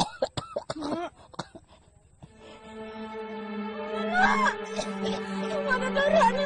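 A woman coughs in a quick run of harsh, close bursts, then lapses into a drawn-out moaning, wailing vocal sound; another voice is heard nearby.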